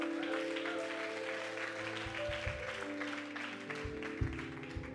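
A church congregation applauding to acclaim Jesus: dense, sustained clapping from many people, steady and moderately loud, with low sustained organ-like tones and faint voices underneath.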